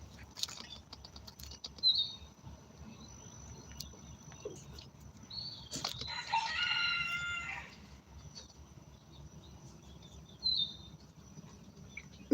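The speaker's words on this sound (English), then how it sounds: "Now y'all can look at the chickens while we talk" A rooster crows several times in bursts among chickens, the calls fairly distant and moderately loud over a quiet background, with no clear talking.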